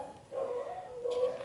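An insanely loud pet dog barking indoors at home, two drawn-out tonal barks or whines close by with no talking.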